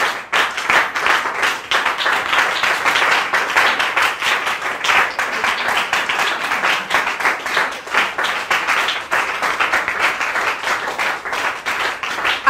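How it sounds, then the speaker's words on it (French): A church congregation applauding and acclaiming the Lord Jesus Christ during a repentance prayer service, a sustained, dense burst of loud clapping with no break. "tu vas te tenir debout et tu vas acclamer le Seigneur Jésus-Christ"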